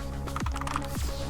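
Quiet, rapid clusters of keystrokes clatter on a computer keyboard during play of the typing roguelite game Spell Wizard, coming in two short bursts close to the microphone.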